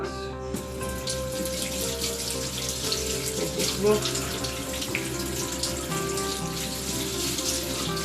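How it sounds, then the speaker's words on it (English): Tap water runs steadily into a sink while pak choy, spring onions and pepper are washed under it. The hissing stream is loud and continuous, with small splashes and clatter as the vegetables are handled. "I'll wash off my pak choy and my spring onions and my pepper."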